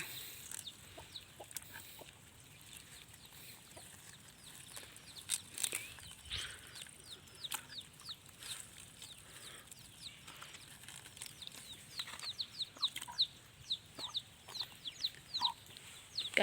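Rooster and hens clucking around a rural Thai or Lao farmyard near rice paddies, soft scattered clucks and chirps with occasional wing flaps, the calls growing busier and denser toward the end.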